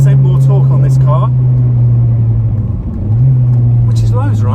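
Honda Civic Type R fitted with a 2.4-litre K24 VTEC engine pulls in third gear, a loud steady drone that rises in pitch, heard from inside the car while someone talks over it.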